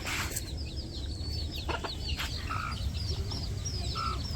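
Chickens and young chicks cluck and chirp steadily at a rural village coop, with ducks nearby, in a continuous outdoor chorus of close and mid-distance calls.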